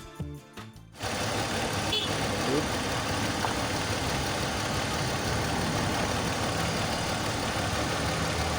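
A BMW X3 with the M54 engine idles with a dense, steady broadband rumble that starts abruptly after a second of clatter and holds evenly throughout.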